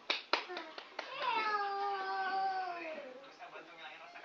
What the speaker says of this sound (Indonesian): Ore, tepuk tangan.